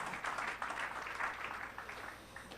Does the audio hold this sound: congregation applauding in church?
yes